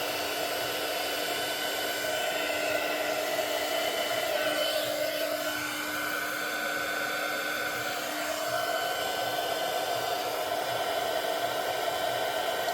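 Heat gun blowing steadily over a resin coaster to pop surface bubbles, a continuous broadband airy roar with a faint motor hum, close and even throughout with no talking.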